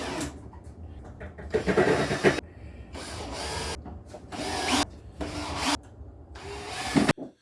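Power drill driving exterior-grade screws into a wooden garden planter, several separate whirring bursts of a second or so each with short pauses between, close and fairly loud, no talking.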